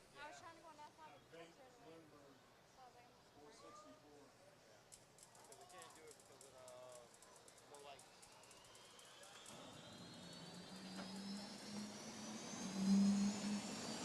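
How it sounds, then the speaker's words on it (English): Larson Motorsport jet dragster cars at No Problem Raceway, an NHRA drag strip, roar to life on the starting line, a rising turbine whine and rumble building beneath an announcer's voice and growing louder. "Make some noise for the Larson Motorsport Jet Cars as they roar to life on the starting line."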